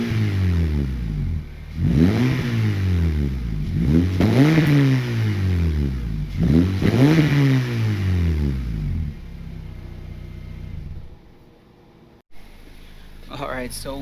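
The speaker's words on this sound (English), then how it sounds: "I'll give you guys a few revs." A car engine with a welded custom straight-pipe exhaust, muffler deleted, revs hard several times in a row, each rise and fall of the exhaust roar loud and close, then settles to a rough idle.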